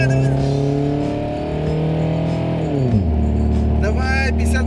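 A 1986–1991 Mazda Luce pulls away from a stop and accelerates, its engine note rising steadily in pitch before dropping sharply at a gear change and building again, heard up close from inside the car.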